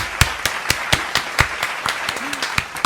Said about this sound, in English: warm round of applause. Andre Raashad.